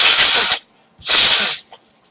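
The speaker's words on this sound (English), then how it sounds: "I'm going to sneeze" Two long, loud, breathy bursts like a forceful sneeze or spray hiss, close up, separated by a short pause, with a small faint sound after the second.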